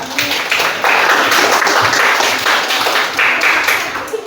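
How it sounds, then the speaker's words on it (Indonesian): Junior high students in a Banjarmasin classroom clap for a classmate, a loud, dense round of applause lasting several seconds that fades slightly at the end. "Oke, tepuk tangan untuk temannya."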